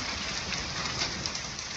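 Heavy rain mixed with hail falls outdoors in a constant dense hiss of drops, steady and fairly faint, with scattered small taps and no voices.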